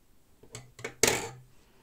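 A few quick metallic snips of scissors cutting yarn close by, the last one louder and ringing slightly, with no voices.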